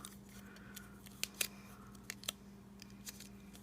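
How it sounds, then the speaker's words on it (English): Scissors snipping through paper in a quiet room, a few soft quick cuts in close succession, faint and close. "When you get to the place that you need to cut, just cut."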